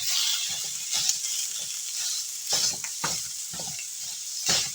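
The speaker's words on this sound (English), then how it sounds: "we're going to make some hot onions with that, or some fried up onions with that" Onions frying on a grill, broken up as they cook, give a steady close sizzle with bursts of stirring and scraping repeating through the clip.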